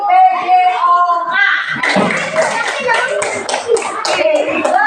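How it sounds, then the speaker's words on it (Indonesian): A class of children claps together in a classroom, a burst of many quick overlapping claps that starts after a teacher's spoken prompt and continues to the end, with the children's voices mixed in. "Tepuk tangan untuk PJOK."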